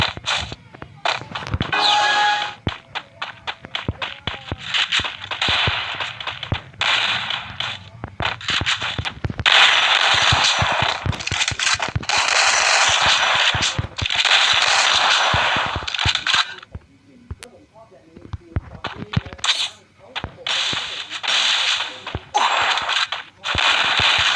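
Rapid bursts of video game shooter gunfire, loud and dense, with repeated crackling shots nearly throughout and brief lulls around the middle and near the end.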